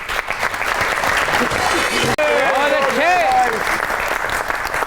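Applause from a studio audience for a singer on a Pakistani comedy and music talk show, a steady dense clatter over about five seconds, with a brief break and a voice cheering over it.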